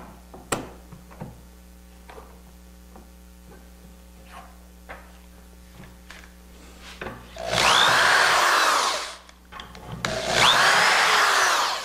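A power drill bores dowel holes in wood for a bed frame joint, making two loud sustained whirring bursts with a pause between them, preceded by scattered light knocks and clicks of handling.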